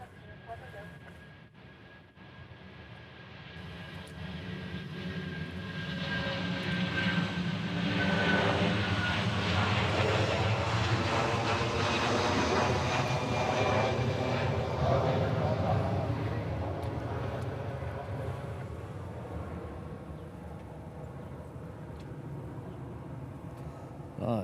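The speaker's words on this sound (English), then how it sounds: "It is time for our Hanaho plane of the day, the A380." Airbus A380 jet airliner departing Honolulu airport, a loud, broad engine roar that swells over about ten seconds, holds, then fades slowly into the distance, with a voice over the radio near the start.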